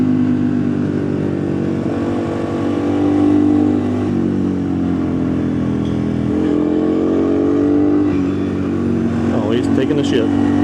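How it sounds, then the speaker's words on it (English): A loud motorcycle engine drones close up with shifting revs, rising and falling in pitch while people talk over it. "I can't even tell what RPM I'm at because your bike's so damn loud"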